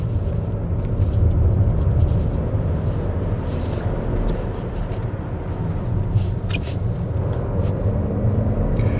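A 2024 Toyota Crown 2.4 Dual Boost hybrid pulls away in normal drive mode on a winding road, giving a steady low cabin rumble with broadband road and wind noise throughout, no voices.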